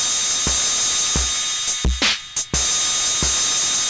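Roland TR-606 drum machine run through a 1981 Inventions DRV filter with the drive raised, punchy kicks in a steady rhythm with distorted, gritty hats and cymbal hits crackling in between.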